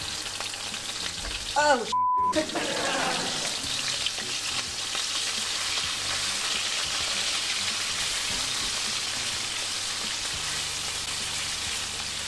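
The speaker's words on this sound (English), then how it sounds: "Now we're gonna fry each of our pork steak." Pork steaks frying in hot garlic oil in a pan, a loud, steady, close sizzle that flares as the meat goes in and then holds constant, with a brief exclamation near the start.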